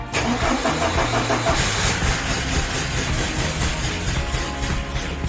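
A 1987 Porsche 944 engine cranks and catches, then runs rough and loud close to the microphone, with a steady, uneven idle that carries a faint rhythmic pulsing throughout.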